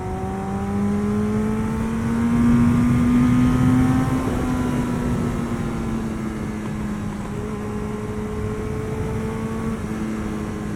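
A 1988 Yamaha FZR 1000 motorcycle accelerating: the engine climbs through rising revs, with pitch sweeping upward across gear changes and a loud peak early on, then settling into a steady, sustained high-speed note with no talking.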